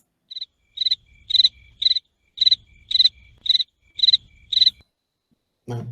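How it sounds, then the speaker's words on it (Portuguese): Crickets chirp on the Paraná coast in nine crisp, evenly spaced pulses over about five seconds, loud and alone in a quiet setting, followed by a single low thump at the end. "Grilo tem tudo quanto é lugar, mas tem aqui também"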